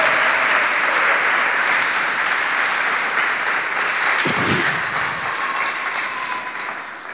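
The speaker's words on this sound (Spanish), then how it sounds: "si lo va a aplaudir, hágalo fuerte" A church congregation at a Christian sermon applauds loudly and continuously, a dense wash of clapping that tapers slightly toward the end, with a brief low voice sound midway.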